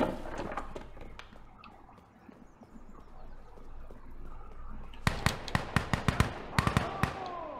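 Gunfire exchange in the shooter game Insurgency Sandstorm: scattered distant shots at first, then a rapid burst of loud, sharp cracks in quick succession near the end, with faint background voices.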